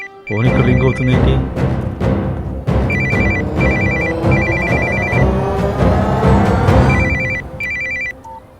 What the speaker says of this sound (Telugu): ఫోన్ ఇక్కడ రింగ్ అవుతుంది ఏంటి?